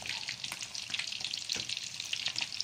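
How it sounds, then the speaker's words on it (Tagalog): Fish, including bangus, alumahan and dalagang bukid, frying in hot oil, giving a dense crackling sizzle with popping spatters, close and steady throughout. "I-fried natin yan. Fried bangus, alumahan, sa dalagang bukid."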